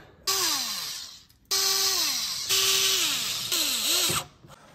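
A power driver runs screws with 5mm Allen heads into a BMW K1200LT motorcycle, four loud whirring bursts that rise and fall in pitch, each driving a screw home, with brief pauses between them.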